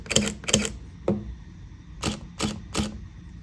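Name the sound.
Leica SL camera shutter firing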